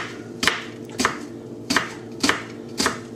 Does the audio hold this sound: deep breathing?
no